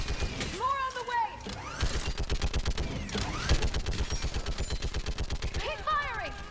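Gunfire in Mass Effect 3 on PC: rapid automatic bursts crackle in a dense, steady rhythm through a combat scene, with swooping sci-fi weapon effects and a shouted voice mixed in.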